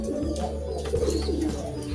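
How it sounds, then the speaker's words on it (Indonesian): A young racing pigeon coos in a steady, low, throaty rumble close by, continuing without a break. "Ini burung merpati ini"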